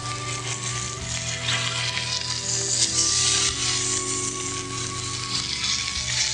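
Brussels sprouts sizzle steadily in a hot pan, a dense, continuous frying hiss with faint background music tones running underneath throughout.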